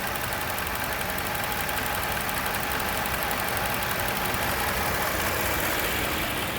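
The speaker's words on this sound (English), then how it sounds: "3-liter supercharged 340 horsepower engine. This is not the base engine." Supercharged 3.0-litre engine of a 2017 Jaguar F-Pace 35t R-Sport idling steadily, a continuous close, even hum with no talking over it.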